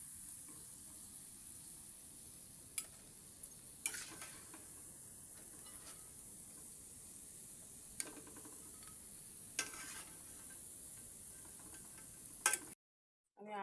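Mango fritters fry in hot oil with a quiet, steady sizzle. A few sharp utensil clicks break in now and then, the sound stays soft and even throughout, and no one speaks.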